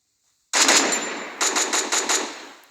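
Automatic gunfire in the video game Free Fire: a loud sudden burst, then a quick run of four or five shots in rapid rhythm, close and without speech.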